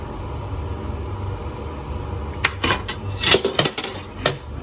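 A saucepan knocking and clinking as it is moved while making fettuccine Alfredo with pasta cooking water. Several sharp metallic clanks come in the second half over a steady background hiss.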